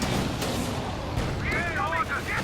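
Tank cannon fire in a video game from a T70 tank, with muffled booming shots and rumbling over a dense battle soundscape while a commentator talks.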